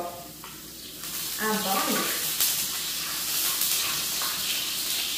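Lard heating and starting to sizzle in a pan on a wood-burning stove, a steady frying hiss that builds and holds, with someone talking over it.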